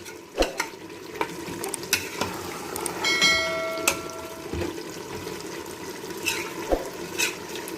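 Mutton and mixed vegetables sizzle and fry in a pot over a high flame, a steady hiss with scattered clinks and stirring knocks of a utensil, plus a brief ringing metallic tone partway through.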